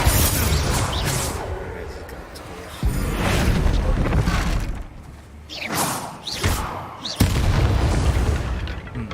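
Heavy booming blasts from Confringo and Bombarda explosion spells in Hogwarts Legacy, a series of thick, rumbling impacts in quick succession that fill the clip, close and loud, with game effects layered over them.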